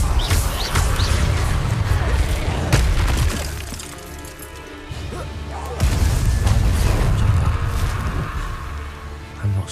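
Confringo fire-spell explosions in the video game Hogwarts Legacy: loud, crashing blasts with shattering debris arrive in two heavy waves, with rumbling low booms and crackle between them, with no voices.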